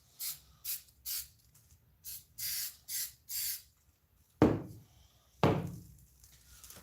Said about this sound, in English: this spray adhesive itself is also a contact cement